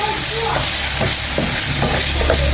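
Ginger sizzles steadily in a little hot oil in a pan while cooking chicken menudo with liver, a constant loud frying hiss broken by occasional stirring clinks, with faint talk beneath.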